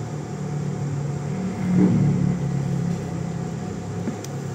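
A 2000-watt heat gun running, giving a steady whooshing blower noise with a low hum underneath that swells slightly midway and then holds even.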